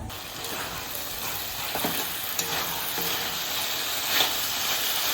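Potatoes fry in a pan with a steady close sizzle, punctuated by a few scraping stirs and light clinks.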